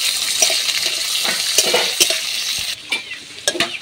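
Chopped onion fries in oil in a pan, giving a loud close sizzle broken by scraping stirs, then quieter with a few sharp utensil knocks.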